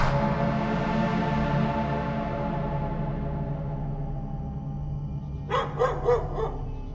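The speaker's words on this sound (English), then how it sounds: "The dog was barking one night, and I went outside and I looked" A dog barks at night: a quick burst of four or five sharp, fairly loud barks near the end, over a steady low droning background.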